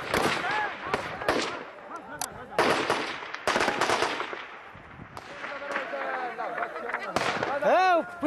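Muffled machine gun fire during the 2002 battle of Qala-i-Jangi in Afghanistan, sounding as scattered bursts and sharp cracks mixed with frequent talking voices throughout.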